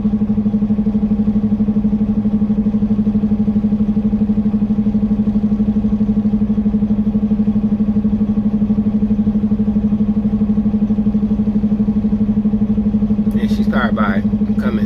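A Cummins X15 truck engine with an 18-speed transmission idles steadily in the cab, a loud, even low drone that runs the whole time, with a brief rattle near the end.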